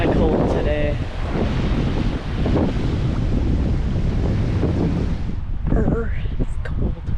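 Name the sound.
strong wind blowing at the beach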